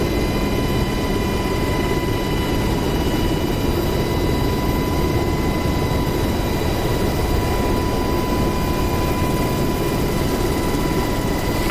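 An Apache helicopter in the DCS World flight simulator holds a steady, loud engine and rotor drone throughout, an unbroken dense roar with a thin high whine that never lets up.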